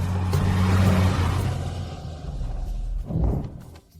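A sports car pulls up nearby, its low engine rumble swelling and then easing, with a second surge and a thud near the end; no talking.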